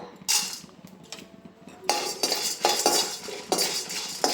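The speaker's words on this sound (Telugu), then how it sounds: "మినపప్పు కూడా కొంచెం వేగాలన్నమాట" Urad dal and chilies fry in a tempering pan, with bursts of sizzling and crackle alternating with metal spoon scraping and clinks against the pan, close and moderately loud, no talking.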